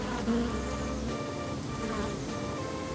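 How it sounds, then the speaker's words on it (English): A cartoon bee sound effect gives a continuous, dense buzzing drone that holds steady and fairly loud for the whole stretch, with no voices heard. "Daddy Pig has been chased by a bee!"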